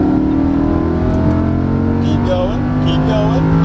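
A race car sweeps past on the right while a Lamborghini Huracan LP610-4 runs hard at full throttle on a racetrack, the engine roaring loudly and continuously throughout.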